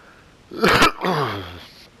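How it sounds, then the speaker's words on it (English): A single harsh throat-clearing cough, close and loud, followed by a rough, drawn-out raspy exhale. "I'm coughing my lungs out"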